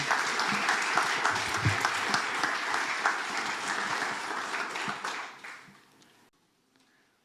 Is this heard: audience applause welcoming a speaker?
yes